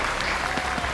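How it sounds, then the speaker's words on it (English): Applause at an esports tournament final for an FC Pro football game event, a dense wash of crowd clapping heard briefly and steadily at moderate distance. "that's the final round of applause for PHzin"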